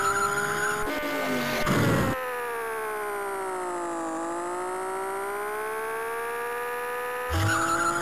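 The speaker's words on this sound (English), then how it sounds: "It's a German sports car, and it's a Porsche 911" A Porsche 911 sports car in the Amiga game Chase HQ, heard as a loud synthesized engine tone that holds steady, dips and climbs again, with brief noisy skid bursts at the start and end.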